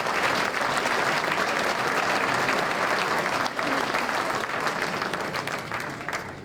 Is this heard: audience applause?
yes